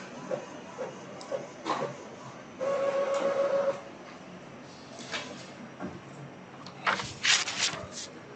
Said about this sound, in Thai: เครื่องก็จะพิมพ์ตัวทดสอบมาให้เรานะครับ ว่าหัวพิมพ์ออกปกติหรือไม่นะครับ